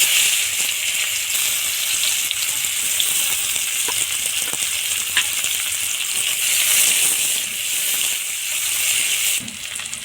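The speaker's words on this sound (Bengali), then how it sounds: "তেলের উপর দিয়ে দিলাম কয়েকটা পাঁচফোড়ন দিয়ে দিলাম পেঁয়াজ কুচি" Chopped onion and panch phoron five-spice seeds fry in hot oil for a Bengali katla fish curry, a steady loud sizzle with crackling pops running throughout and dipping briefly near the end.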